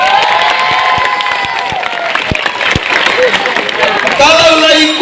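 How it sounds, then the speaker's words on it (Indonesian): An audience at a Maulid Nabi lecture in a school hall in Padang applauds and cheers loudly, with shouting voices, crowd babble and a few sharp thumps through the mix. "Tepuk tangan Cilo"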